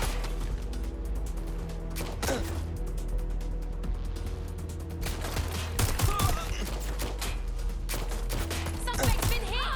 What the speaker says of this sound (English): I'm taking shots fired!